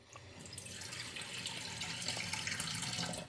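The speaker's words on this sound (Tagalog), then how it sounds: "Lagyan natin ng kunting tubig." Water pours in a steady, faint stream into a thick cooking mixture, a continuous splashing hiss that swells slightly as the pour goes on, with no talking.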